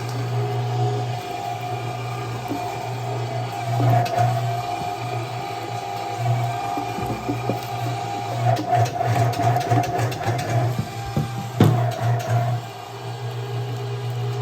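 A 1.5 HP electric meat grinder grinds bear meat with a steady, droning motor hum. Brief bursts of rattling and strain rise over it midway through.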